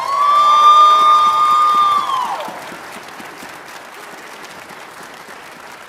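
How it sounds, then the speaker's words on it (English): A party crowd at a Tae Kwon-Do school's Christmas gathering bursts into loud applause with shrill whistle-like tones on top, then dies down after a couple of seconds to a few scattered claps. "Can we just give a big round of applause to Mr."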